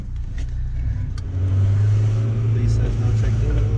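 A Stage 2 VW Golf R fitted with a Forge diverter valve runs close by, its engine droning steadily and then rising in pitch and loudness as it is revved.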